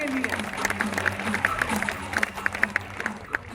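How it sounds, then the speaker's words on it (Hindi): An audience at a company achievement and product launch event claps for Nikhil, quiet rhythmic clapping under an upbeat backing track. "एक जोरदार तालियां निखिल भाई के लिए"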